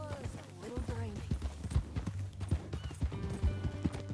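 Close, rhythmic clip-clopping of a horse's hooves in a PS4 western game, steady footfalls continuing under background music while a voice talks throughout.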